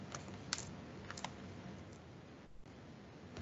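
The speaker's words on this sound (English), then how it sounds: "type this here in this line" Code being typed on a computer keyboard in ArcGIS Pro: a quiet, steady run of soft key clicks with a few sharper taps, heard close and alone.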